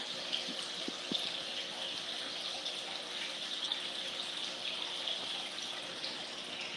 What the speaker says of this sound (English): Oh, like you got water running or something, Bob.